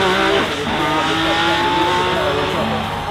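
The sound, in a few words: Mercedes-AMG One hybrid 1.6 litre turbo V6 engine, Forza Horizon 5 video game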